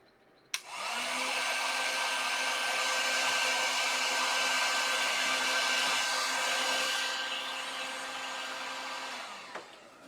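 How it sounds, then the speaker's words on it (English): A heat gun blows hot air steadily for about nine seconds to loosen the brim of a scarecrow, a loud continuous whooshing roar with a faint whine that starts abruptly and cuts off at the end. "Let me use my heat gun. It'll get it off."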